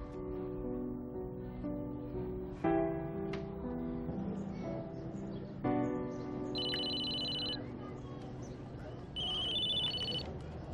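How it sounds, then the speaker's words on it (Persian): A telephone ringtone sounds in a Persian TV drama scene while a call is placed. Two short electronic ring bursts come through, with musical underscore beneath. "آقای سوربه اجازه بدی من به باباش یه زنگ بزنم مطمئن شم"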